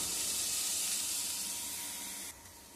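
Onions sautéing in a pan for masala dosa, a steady broad sizzling hiss that holds evenly and then drops slightly quieter near the end, close and alone with no voices.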